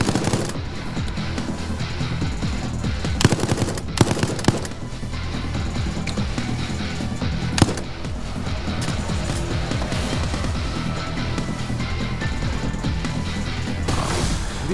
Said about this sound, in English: then I'll just gun you down!